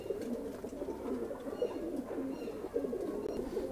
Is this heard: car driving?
no